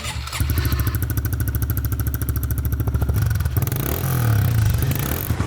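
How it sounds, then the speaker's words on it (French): A Honda CRF 110 small motorcycle on its stock exhaust runs loud and close, a steady rapid buzzing putter that holds, then lifts slightly in pitch as it revs up near the end, with no voices over it. "Et regardez, écoutez le bruit avant."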